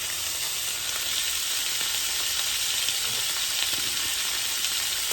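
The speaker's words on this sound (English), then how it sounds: "So we're going to let this brown for a second, and then we're going to flip it over." Stew beef browning in a hot pot gives a steady, even sizzle that holds at a constant level throughout, with no voices over it.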